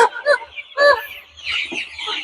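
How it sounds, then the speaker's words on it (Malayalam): Palakkadan chickens, a native Kerala breed of young hens, cluck and call in short bursts, fairly close and moderately loud, with low background noise and no speech. "ഇതാണ് നമ്മുടെ പാലക്കാടൻ കോഴി."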